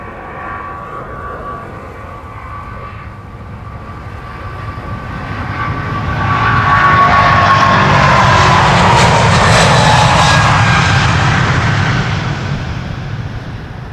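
Boeing 777-200, 24 years old, taking off from Schiphol's Polderbaan runway 36L/18R, its jet engines swelling from a distant rumble to a loud, roaring peak that stays sustained before easing slightly.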